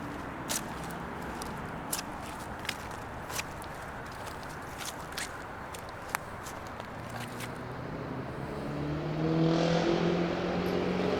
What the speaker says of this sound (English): There's some traffic noise nearby